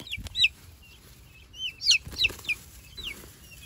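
Five baby chicks heading outdoors give thin, high peeps in short scattered bursts, some doubled, close by over faint low rustling, with no talking.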